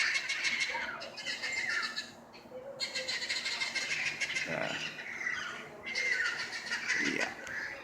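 A flock of parrots squawks in Santa Ana, with harsh, repeated calls coming in loud bursts over a steady outdoor background, several birds overlapping at a moderate distance.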